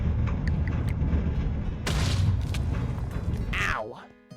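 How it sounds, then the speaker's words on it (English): A video game explosion in Wynncraft goes off as a sudden bright blast that trails into crackling debris, followed by a descending whoosh, under a speaking voice. "It's gonna blow up."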